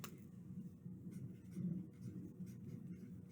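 Hand writing for a craft project, a soft, steady scratch of pen or marker on paper, faint and close, continuing with slight swells and no talk.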